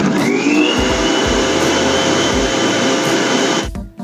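An electric mixer whirs steadily as it beats eggless chocolate doughnut dough, a loud continuous motor drone with a slight rise in pitch early on. It cuts off just before the end.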